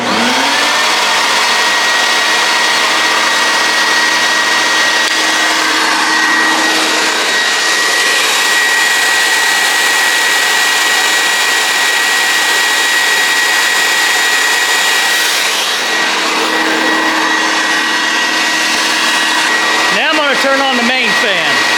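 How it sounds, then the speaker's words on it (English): A cooling fan on a DIY turbine paint sprayer runs loud and steady with a high, whining roar and a faint tonal hum, close and continuous, shifting briefly near the end. "let me turn on the cooling fan"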